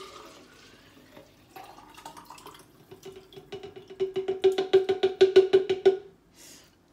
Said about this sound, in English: And then we pour the other half in.